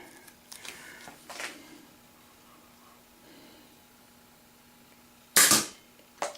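An Air Warriors Panther 2 toy blaster fires a dart with one sharp, loud snap near the end, followed by a brief tail of noise; softer handling clicks come before it.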